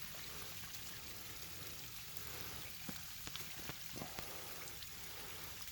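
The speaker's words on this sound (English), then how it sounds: "Back up from the mighty waterfall." A small waterfall about two metres high gives off a faint, steady wash of flowing water, with a few soft splashes. No one talks over it.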